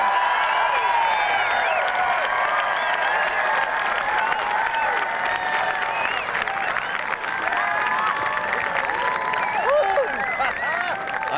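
Large outdoor crowd at a night balloon glow event clapping and cheering after a hot air balloon touches down, dense continuous applause with shouts and whistles, loud and sustained throughout.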